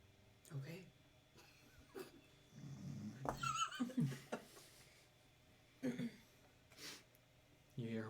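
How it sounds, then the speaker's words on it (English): A horse neighs and whinnies several times in short, bright calls, fairly close, with snorts and rustling between them and no talk over it. "You hear horse."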